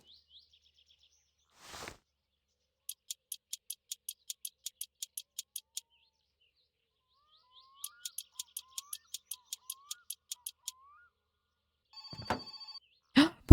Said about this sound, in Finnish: Puhelin soi.